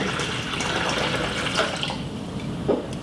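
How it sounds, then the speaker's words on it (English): Filtered water pours steadily into the base of a nut milk maker, filling it to the minimum line, a continuous close splashing rush with faint drips and no talking. "I'm just filling this up to the min line with some filtered water."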